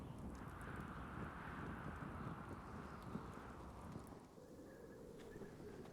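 Steady low whooshing wind blows throughout in a Telltale Game of Thrones video game, rumbling and broad, easing slightly near the end as a faint tonal hum emerges.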